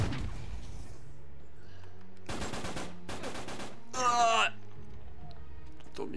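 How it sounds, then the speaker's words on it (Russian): Video game gunfire in an Uncharted 3 online co-op match, rapid automatic bursts rattling in quick clusters, followed by a louder burst with a ringing effect, over a low game background hum. "Кто меня стреляет"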